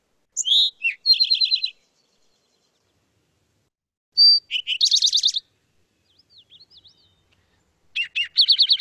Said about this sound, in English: And listen to the towhee.